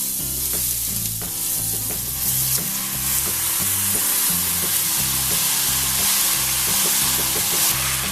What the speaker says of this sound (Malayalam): ഈ മസാലയും അരിയും കൂടെ നമുക്ക് നന്നായിട്ട് ഇളക്കി മിക്സ് ചെയ്ത് യോജിപ്പിക്കാം.